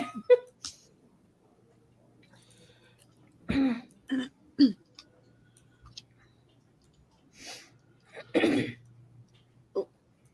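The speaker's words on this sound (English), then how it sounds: "My cough has gotten a bit worse from when I had COVID a couple weeks ago" Several short, sharp coughs from someone recovering from a recent bout of COVID, coming in scattered bursts close to the microphone with quiet gaps between them.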